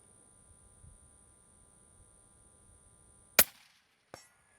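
A Savage Ultralite Elite rifle fires at a 200-yard target: after near silence comes a single sharp, loud crack, followed moments later by a fainter second report.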